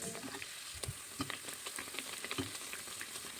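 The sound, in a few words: bread slices frying in hot oil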